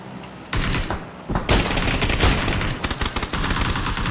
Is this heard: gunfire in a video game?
yes